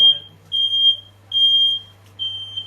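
Piercing beeps from a home smoke alarm set off by cooking smoke during a Sunday roast repeat in a steady rhythm, three long loud tones with short gaps between them over a faint low hum.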